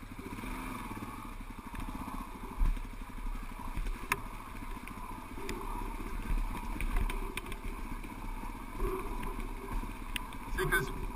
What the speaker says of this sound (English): Let the engine brake it.